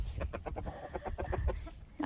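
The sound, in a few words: chicken clucking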